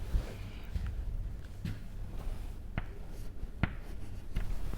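Chalk or marker writing on a board during a physics lecture on dielectric properties of solids, faint scratchy strokes with a few sharp taps, quiet and sparse in a room with low background hum.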